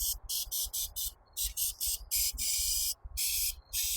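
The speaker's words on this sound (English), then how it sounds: "So I need to spray that off, clean it really good." Short bursts of hissing spray repeat in a fast, uneven rhythm, close and bright, from an aerosol cleaner can pressed on and off while cleaning a mower carburetor.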